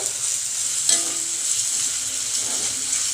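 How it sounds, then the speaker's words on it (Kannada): Onions frying in oil in a pan for a leafy greens gravy, a steady close crackling sizzle running throughout with a brief stirring scrape near the start. "ಇದನ್ನು ಹಾಕ್ತೀನಿ ನಾನು ಎಣ್ಣೆಯಲ್ಲಿ ಈರುಳ್ಳಿ ಚೆನ್ನಾಗಿ ಬಾಡಬೇಕು"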